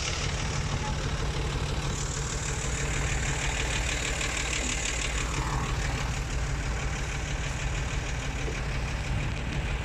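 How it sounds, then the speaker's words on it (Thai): A farm tractor engine drones loud and continuous as it strains to pull a vehicle stuck in deep mud, a heavy, steady roar holding at high load for ten seconds with no voices over it. "ดึงไม่ขึ้นครับรถไถดึงไม่ขึ้นนะครับ"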